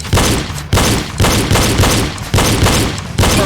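Pistol shots fired in a reload drill, six loud sharp reports spaced at roughly even half-second intervals, each with a brief ringing decay before the next.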